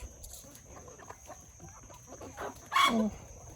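A rooster crows once, brief and fairly distant, over a quiet outdoor backdrop with faint scattered sounds.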